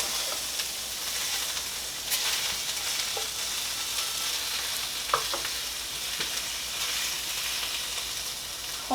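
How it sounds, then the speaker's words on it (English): Pineapple pieces fry and brown in a pan with a continuous, even sizzle and hiss, with occasional soft clicks of a utensil against the pan, heard close and moderately loud. "Once the pineapple is starting to brown up, we are going to go ahead and remove it back to our dish"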